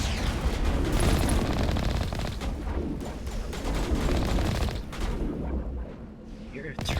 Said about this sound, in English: Why are you guys shooting at me?